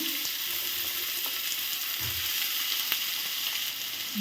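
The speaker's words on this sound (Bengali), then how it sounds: "তো আমি এক এক করে গরম তেলের মধ্যে এগুলো সব দিয়ে দেবো," Chopped vegetables frying in hot mustard oil in a pan make a steady, close sizzle, broken by a few soft knocks and stirring sounds. No one speaks.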